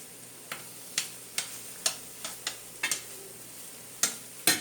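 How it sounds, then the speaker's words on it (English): Plantains frying in a pan, a soft steady sizzle broken by about a dozen sharp clicks and taps from a utensil at uneven intervals, close and fairly quiet. "So let me continue to fry the plantains."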